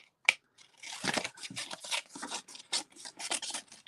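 Scissors cutting a piece of cardstock, a quiet close series of rasping snips and paper rustles in an irregular rhythm, with a sharp click at the start.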